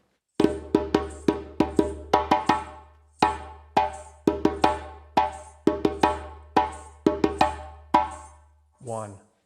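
A djembe hand drum plays the same short rhythmic phrase four times in a row, crisp slaps and tones with brief gaps between repeats, followed by a short rising voice-like sound at the end.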